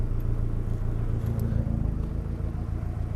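A turbocharged car engine idles steadily with a low, even rumble, close and continuous throughout, no voices.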